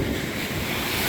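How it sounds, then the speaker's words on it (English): Pacific coast surf on a beach along Highway 101 roars in a continuous, loud, broadband wash with wind buffeting the microphone, and no voices. "these waves over here are nuts"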